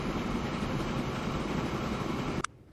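A long freight train rolls past steadily in Transport Fever 2, a dense continuous rumble of wagons that fills the scene and then cuts off abruptly with a brief click.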